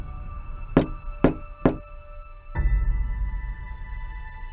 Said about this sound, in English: I remember a knock on the door around